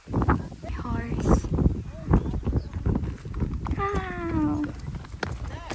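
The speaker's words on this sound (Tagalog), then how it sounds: "May kabayo, guys!" Horse hooves clip-clop on a mountain trail at Mt. Batulao, close and irregular, with a short whinny-like call partway through, heard under excited talk from people nearby.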